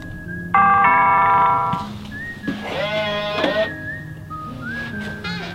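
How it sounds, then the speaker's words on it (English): A doorbell chimes loudly with a sustained two-tone ring, followed by quieter whistling tones and a bleat-like call, no talking. "We're about to ring the old doorbell to pick up my beautiful date."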